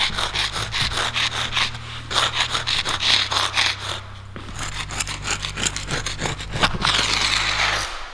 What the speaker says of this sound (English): So that is all of the crud that I just dug out of all of those expansion joints